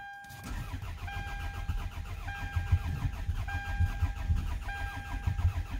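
A 1996 Toyota Camry that sat unused for six years cranks with a steady rhythmic starter churn. Warning chimes beep at intervals over the cranking.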